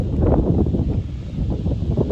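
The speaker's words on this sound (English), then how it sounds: "the wind is starting to pick up" Wind gusting across the exposed slopes of Ben Nevis, a loud low buffeting roar that rises and falls in quick surges against the microphone, with no voices.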